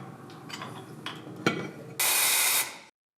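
A few small clicks and taps, then a loud steady hiss of compressed air blasting out a 7.3 diesel injector hole for about half a second before cutting off.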